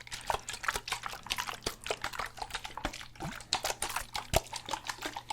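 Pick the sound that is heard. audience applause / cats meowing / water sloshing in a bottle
water sloshing in a bottle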